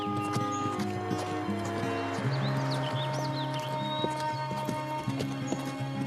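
A horse walks with steady hoof clip-clops close by and gives a neigh partway through, while birds and a clucking chicken sound faintly in the background.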